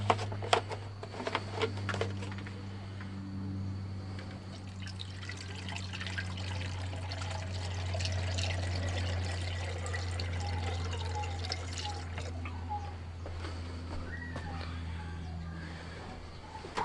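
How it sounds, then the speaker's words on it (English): Coolant poured into a Mini Cooper's reservoir makes a steady trickle and gurgle of liquid that runs close by for the whole stretch, over a low constant hum. "Let's pour some coolant in here."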